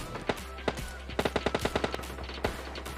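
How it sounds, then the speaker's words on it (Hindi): Shotgun fire in a battle royale video game: a burst of sharp, loud blasts, single shots then a quick run of about eight evenly spaced reports, followed by one more shot, with no talk. "अब यहाँ पर तुमने गन शॉट्स की तो आवाज़ सुनी ली होगी, मतलब शॉटगन पे शॉटगन चले जा रही है।"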